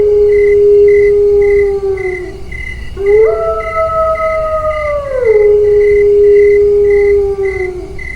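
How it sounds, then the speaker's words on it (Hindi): A dog howls in long, drawn-out wails that bend in pitch, sustained and mournful against a night backdrop of chirping crickets, with no voices, in a Hindi horror cartoon. "तभी दूर किसी कुत्ते के रोने की आवाज से मेरी नींद टूट गई"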